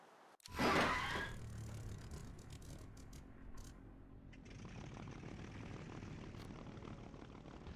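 A Yak-2 aircraft in the War Thunder video game takes off. Its engine roars up loudly at the start, then settles into a steady, sustained drone with a high hiss.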